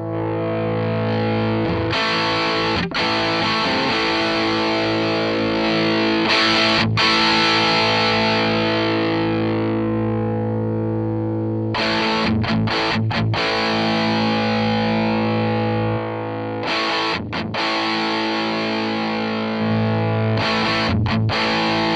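Electric guitar played through a Zoom G5n with the treble boosted, a loud, heavily distorted sustained tone with bright, harsh highs, broken by a few brief pauses between chords.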